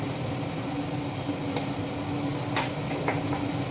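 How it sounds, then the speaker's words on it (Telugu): Kalonji seeds sizzle in hot tempering oil in a pan, a steady close frying hiss with a few light metallic taps from a utensil. "కొన్ని కలౌంజీ సీడ్స్ కూడా ఇప్పుడు వేసేసుకుంటాను"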